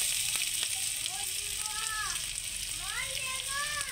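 Dried red chillies and crushed ginger sizzle and crackle steadily in hot oil, a continuous close frying hiss with a voice talking over it.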